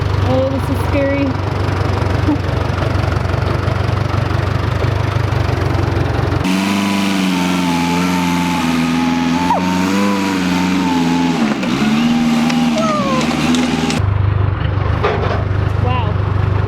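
A backhoe engine runs while backfilling an ICF basement, a loud, close rumbling drone with shifting pitch as it labours and revs, nearly filling the clip.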